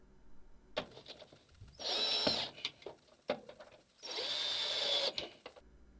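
A power driver tightens screws on a Kenmore washer in two sustained whirring bursts, each about a second long, separated by clicks and handling of the machine, close and fairly loud.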